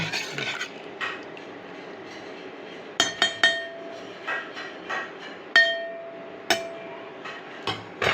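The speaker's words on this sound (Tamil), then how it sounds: "நம்ம போட்ட சரக்கு எல்லாமே நல்லா கரையிற அளவுக்கு கிண்டி விட்டு" Metal clinks and scrapes ring out as herbal joint-pain balm ingredients are stirred in a metal pot, with sharp isolated knocks at irregular intervals over a quiet background and a few bright ringing tones.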